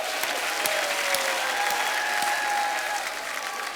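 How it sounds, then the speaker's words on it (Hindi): Steady audience applause fills the whole stretch, a dense wash of many hands clapping with faint crowd murmur underneath. "जोरदार तालियां हो जाएं।"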